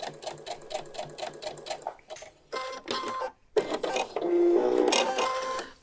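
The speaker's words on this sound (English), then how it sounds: "just do a reverse stitch and stitch off the short side" A sewing machine reverse stitches and then sews forward along the short side of a quilted cafetière cover made with Thermolam, giving short bursts of rapid mechanical rattling and pauses, then a longer louder run near the end.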